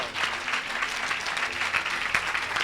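A church congregation at a French-speaking evangelical revival service breaks into sustained, dense applause that fills the room evenly for a few seconds.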